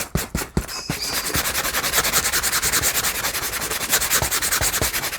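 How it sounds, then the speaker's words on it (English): Sandpaper works the rough edge of a handmade hardcover notebook cover. A few separate strokes come first, then a fast, steady back-and-forth rasp, close and fairly loud. "let's sand the other side of this rough edge."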